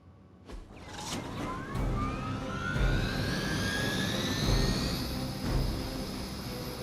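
A Hydra helicopter in the Marvel's Midnight Suns video game roars steadily, with a rising whine that sweeps upward as it flies, and no voices over it.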